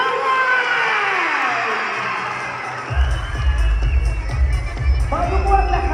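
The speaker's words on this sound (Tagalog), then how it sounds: "sa pamamagitan ng isang masigabong palakpakan na may kasamang sigawan" A crowd at a town basketball event cheers and shouts, a dense wash of voices that swells loudly after a few seconds with whoops rising above the din.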